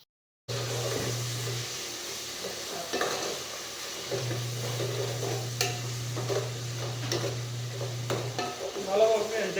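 Onions are frying with salt in a pan with a constant sizzle, with scraping stirs and a few clinks of the utensil against the pan. A low steady hum runs beneath part of the clip, and no one speaks.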